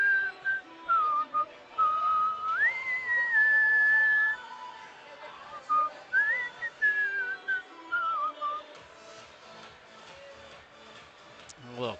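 A person whistles a bright melodic tune in two phrases, clear and fairly close, over a murmuring crowd and shuffling at a KC Knights vs Mid MO Tigers sports game; after the whistling stops, the crowd chatter continues alone.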